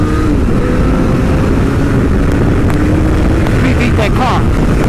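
Superbike motorcycle on the road accelerating hard to overtake a car, a loud continuous engine roar with rising pitch and heavy wind rush throughout.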